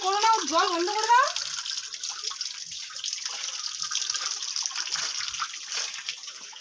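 Water runs steadily from a tap with a soft, even hiss, close by and fairly quiet, after a brief moment of speech at the start.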